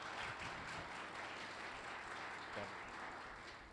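Audience applause at an Ohio city community meeting, a soft, steady patter of many hands heard from a distance, fading slightly toward the end.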